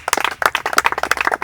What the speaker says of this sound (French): Applaudissons pour Ben Moussumba.